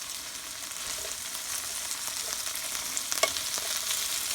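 Vegetables sizzle steadily in an electric skillet, a constant close hiss with faint scraping and small pops as they are tossed, no voices.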